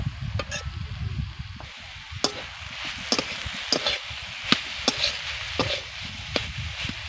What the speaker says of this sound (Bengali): সবজিটাকে কিন্তু আমি আস্তে আস্তে করে ভেজে নিচ্ছি